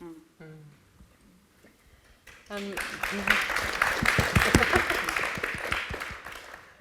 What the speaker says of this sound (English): He's just got a round of applause